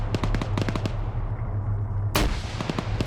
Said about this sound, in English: Second grenade goes in.